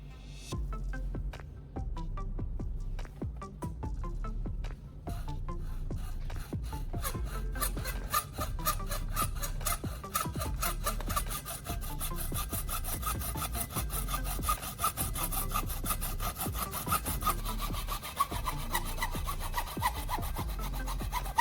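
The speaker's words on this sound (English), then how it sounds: "I will use this saw to cut the plastic tube." A hand saw rasps through plastic tubing in steady, rhythmic back-and-forth strokes, close and clear, speeding up into a quick even cadence.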